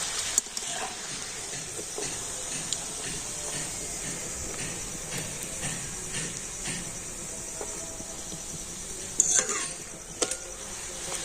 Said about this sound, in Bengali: আমি একটা একটা করে রুটি তেলের মধ্যে দিয়ে কিন্তু ভেজে নেব